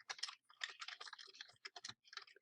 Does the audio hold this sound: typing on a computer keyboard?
yes